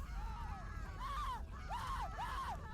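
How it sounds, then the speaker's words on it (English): A burning halfling screams in the Overlord video game, several wavering, rising-and-falling shrieks in quick succession over a low rumbling game background, fairly faint and distant. "A good halfling is an on fire and screaming halfling."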